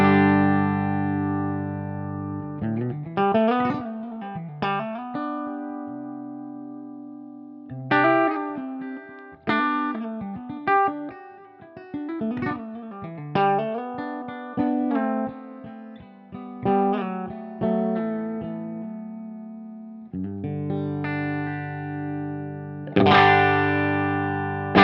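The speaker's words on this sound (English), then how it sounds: "I'm using a Yamaha RevStar 502T with two P90s running directly into guitar rig on a clean orange amp emulation." Clean electric guitar, a Yamaha RevStar 502T with two P90 pickups running straight into Guitar Rig on a clean Orange amp emulation, playing chords and melodic lines with sustained notes, close and alone.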